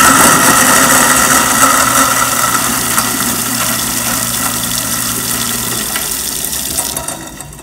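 A kitchen garbage disposal grinds lemon rinds with hot water running into a white cast iron sink, a loud steady motor drone mixed with rushing water that eases slightly before winding down at the end.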